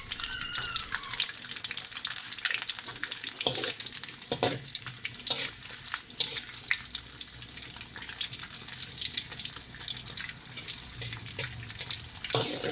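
Ginger and garlic stir-fry in a pan over low to medium heat, giving a continuous faint sizzle and hiss broken by soft scraping and clattering strokes, with no talk.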